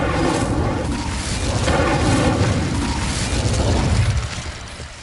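Repeated fire and blast spells, Incendio and Confringo, go off in the Hogwarts Legacy video game, making a dense, continuous run of loud booms and crackling bursts that fades slightly at the end.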